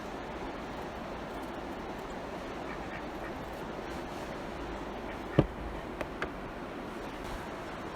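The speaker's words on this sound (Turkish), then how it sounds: "Ördeklerimiz de geldi." A few faint quacks from ducks over a steady outdoor wash of background noise during outdoor cooking, with one sharper call standing out briefly.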